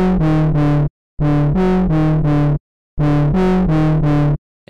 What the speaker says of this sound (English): we can add distortion